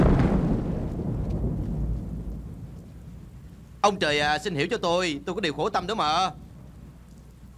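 A deep roll of thunder from a storm rumbles loudly and slowly fades over a few seconds; then someone speaks Vietnamese over a faint, steady background.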